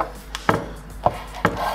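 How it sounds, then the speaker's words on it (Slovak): A knife chops through a stack of tortilla wraps, cutting them into strips for a bean soup: four distinct sharp cutting strikes at an uneven pace, close and fairly quiet, with no talking. "Nakrájame si ich na pasiky, cca palec až 2 palce hrubé"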